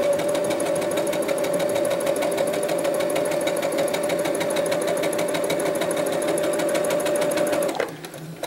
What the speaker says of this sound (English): just gonna use a straight stitch on this. I'm gonna go forward. I'm gonna backstitch a little bit